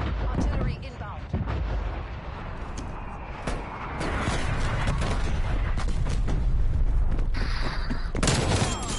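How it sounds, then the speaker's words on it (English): An artillery strike in the video game Call of Duty Cold War rumbles loud and continuous, with a barrage of booming blasts and gunfire layered throughout, under game voice announcements. "Artillery inbound."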